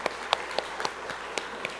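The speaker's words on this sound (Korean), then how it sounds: "우리 다시 한번 우리 격려의 박수 한번 부탁드립니다" Church congregation clapping for the choir, a scattered, light patter of hands at a moderate distance, fairly soft and uneven rather than a full ovation.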